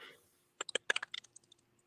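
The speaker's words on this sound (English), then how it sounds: "Somebody was typing." Quick clicks of someone typing on a computer keyboard come through faintly on a voice call, a brief irregular run of about a dozen close taps after a moment of quiet.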